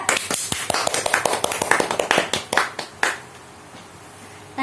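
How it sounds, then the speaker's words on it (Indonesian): A classroom of students claps for a student group, a burst of quick, uneven handclaps from a small crowd that thins out and stops abruptly near the end, leaving quiet room tone. "Oke, tepuk tangan untuk kelompok 2."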